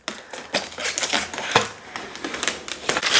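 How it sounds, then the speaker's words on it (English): Protective plastic film peeled off the top of an Arcade1up NBA Jam Countercade arcade cabinet, a series of sharp crackling, ripping snaps in irregular bursts, close and fairly loud. "Take the dust protectors off both sides, and this will just peel right off the top."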